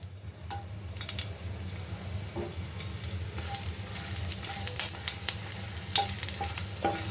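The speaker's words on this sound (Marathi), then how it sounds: "आपलं तेल गरम होत आलेलं आहे. आपण त्यामध्ये मिरच्या टाकूया." Green chillies fry and sizzle in about three spoons of hot oil in a pan, a steady close crackle with occasional stirring clinks and scrapes.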